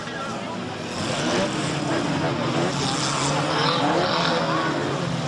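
Stock cars racing around an indoor track at the Fun Car Show in Bercy, a steady, loud roar of engines with tire noise that rises and falls as cars pass close by. A voice may sit faintly beneath the din.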